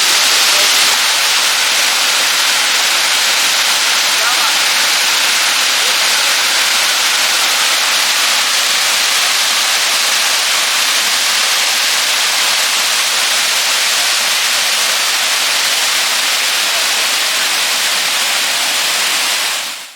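Waterfall in Sri Lanka roaring steadily, a dense broadband rush of falling water that stays loud and unbroken throughout before cutting off at the end.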